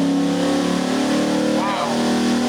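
A Chevy 305 small-block V8 on a dyno holds a loud, steady high-rpm roar with strong engine harmonics that swell slightly near the end, with voices talking over it.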